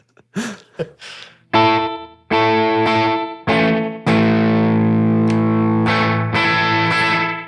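An electric guitar runs through an effects pedal with a short time setting, giving distorted, reverb-like wash; several picked notes and chords ring out, then a long sustained chord swells and holds.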